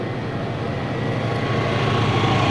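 A C-5A Galaxy transport plane flying a slow demonstration pass at the 2003 New York International Airshow, its engines a steady, broad roar that holds loud and even throughout.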